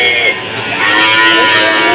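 Cattle moo loudly and up close at the Tuban cattle market among Limousin and Simmental bull calves, a long drawn-out low call over a crowded background murmur.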